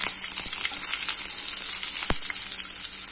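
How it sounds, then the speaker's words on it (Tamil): Mustard seeds spluttering in hot oil for a toor dal sambar with green chillies, giving soft continuous sizzling and scattered pops, one sharp crackle standing out. "இப்போ கடுகு பொரியுது"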